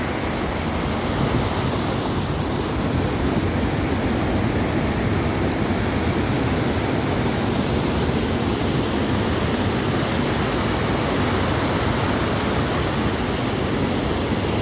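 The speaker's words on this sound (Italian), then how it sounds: "questa qua è la cascata di Val Nontei" The Valnontey waterfall roars continuously and loudly, a dense, unchanging rush of falling water filling the whole stretch with no voices.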